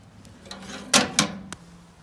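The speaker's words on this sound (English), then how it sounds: "shut this door" A metal door on a new Old Country Wrangler offset barbecue smoker is swung shut, giving two loud clanking thuds followed by a lighter click, close by with no talk.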